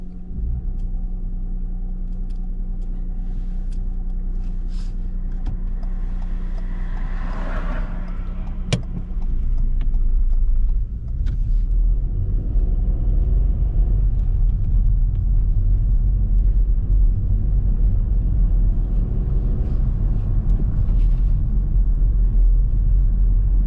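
A car on a driving test rolls along a road, its engine and tyres producing a steady interior rumble that grows louder and rougher partway through as it picks up speed.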